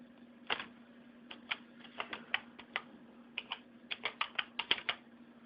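Typing on a computer keyboard, a quiet run of separate key clicks in uneven bursts over a low steady hum.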